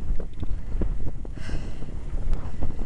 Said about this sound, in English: God, I do hope the wind drops though.